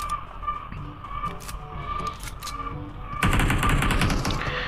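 Video game gunfire on the PUBG Livik map, scattered sharp shots followed by a sustained loud burst of automatic fire near the end, with someone talking in Hindi over it.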